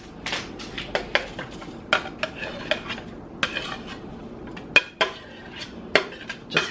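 Linguine and other ingredients go into a pot with repeated clinks and clatters of utensils against cookware, sharp irregular knocks and scrapes close by, with no talk.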